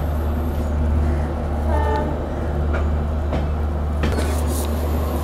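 Garvi Gujarat special train pulling into Veraval Junction, with a steady low rumble of rolling cars and a brief horn toot midway, plus scattered clanks and clicks, all fairly loud and continuous.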